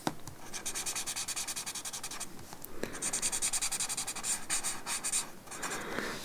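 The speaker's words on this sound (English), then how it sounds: "I love the noise that the tortillons make as you feel the graphite pushing into the texture of the paper." A paper tortillon rubs graphite into textured paper with a steady, close scratchy rasp, in continuous strokes broken by short pauses, alone with no talking.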